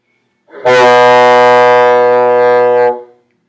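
A single sustained bassoon note plays loud and close, steady for a couple of seconds before stopping.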